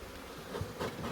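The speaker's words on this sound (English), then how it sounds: "They are a box of bees though." Honey bees hum in an opened hive box during a first spring inspection, a faint, continuous, close buzzing drone with slight swells, with no one talking.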